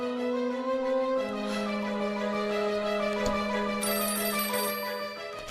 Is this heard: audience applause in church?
no